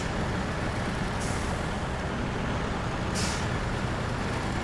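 A heavy truck climbing a hill in SnowRunner's Michigan map, a steady loud diesel engine drone with two brief hissing air-brake bursts, no talk.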